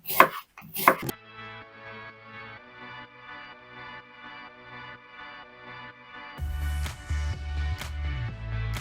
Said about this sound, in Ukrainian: Підготую цибулю, наріжу її, розріжу її навпіл, а тепер просто половинку на невеличкі шматочки